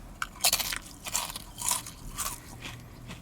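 Spicy, salty kettle-cooked potato chips being bitten and chewed outdoors in winter, a series of sharp, close crunches and crackles in irregular bursts with no talking.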